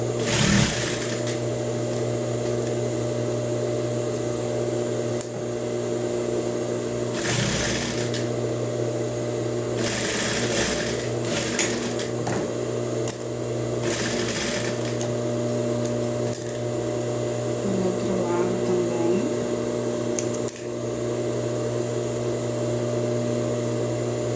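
A sewing machine stitching fabric for a blouse runs with a steady mechanical hum, broken by several louder bursts of stitching.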